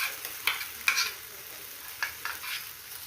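Ground chutney goes into a hot tempering of cumin and asafoetida in a pan. Quiet, close scraping stirs and soft frying crackles come in several short bursts over a faint sizzle.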